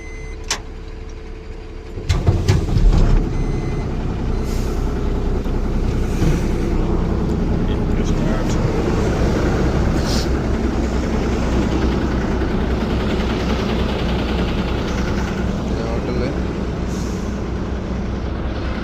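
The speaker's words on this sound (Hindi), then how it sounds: "गाड़ी को स्टार्ट कर लेते हैं।" An Indian truck's engine is started with a sharp burst and then runs at a loud, steady rumble close by for many seconds.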